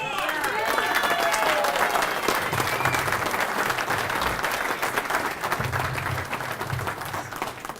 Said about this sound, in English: how about a huge round of applause for that guy right there